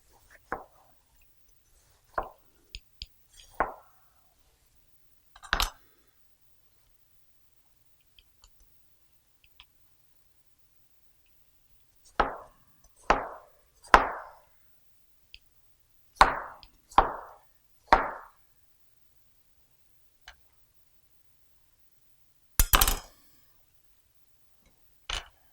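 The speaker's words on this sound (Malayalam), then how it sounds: "നമുക്കിനി ക്യൂബുകളായിട്ട് ഇത് കട്ട് ചെയ്യണം." A knife cuts watermelon into cubes on a board, making scattered sharp, close chopping knocks, some in quick runs of three or four, separated by stretches of near silence.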